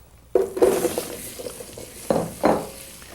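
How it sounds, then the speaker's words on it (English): Big juicy chunks of zucchini dropped into a pan, a sudden burst of clatter and sizzle followed by a few more scraping, tumbling thuds, fairly close and loud with no talk. "Now, let's pop in our zucchinis."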